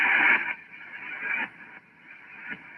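Band-limited radio static hisses in uneven bursts from an amateur radio receiver, with a muffled transmitted voice coming through the noise.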